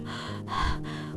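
Heavy, labored panting from an anime character after casting ice magic, a single breathy gasping swell that peaks midway, close and alone with no talk.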